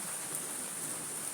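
Rain falling outdoors in Hanover, Jamaica, a faint, steady hiss of drops spread evenly throughout, with no distinct individual impacts or other sounds standing out.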